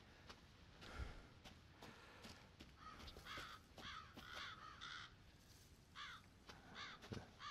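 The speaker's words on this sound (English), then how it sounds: "Can hear crows." Crows caw repeatedly in the Resident Evil 7 video game, harsh ragged calls coming in clusters at mid distance over faint footsteps and ambient thuds, with no talking.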